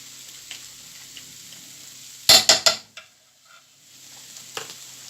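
Beef rendang ingredients and paste stirred in a pan, a few sharp scraping clatters of utensil against metal over a soft background sizzle, with no voices.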